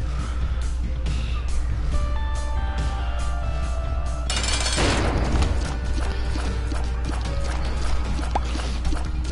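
A troll bomb in The Binding of Isaac: Rebirth detonates in a single loud burst midway, following a run of quick clicky game effects and tones, then crackling debris.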